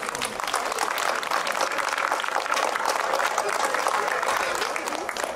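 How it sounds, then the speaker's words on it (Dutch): Warm applause from a crowd at an outdoor festival celebration for a volunteer, dense steady clapping that holds evenly for several seconds, close and full. "met een applaus van ons allemaal"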